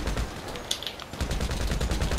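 Bursts of rapid automatic gunfire in GTA V, quick repeated shots in a steady rattling rhythm with a sharper crack near the middle, moderately quiet and heard without talk.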